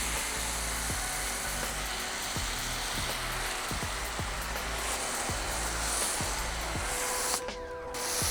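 A pressure washer foam cannon sprays soap onto a car, producing a steady, loud hissing spray over a whining pump motor that pulses in a regular rhythm, briefly dipping near the end.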